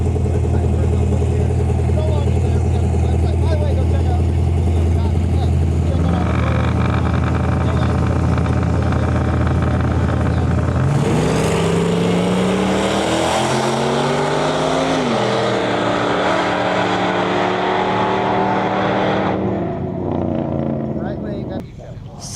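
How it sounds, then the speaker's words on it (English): A Chevrolet Bel Air riding on air suspension pulls up at a drag racing event, its engine droning loudly and steadily, then rising in pitch as it moves close by, with someone talking over it. "The Bel Air here pulling up on air ride"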